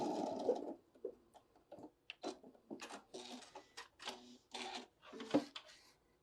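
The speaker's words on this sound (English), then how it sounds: "coming up to my last mark. And we're going to back tack right there" A sewing machine runs in short stitching bursts while back tacking a bag seam, quick rhythmic stops and starts of needle clatter heard close and alone.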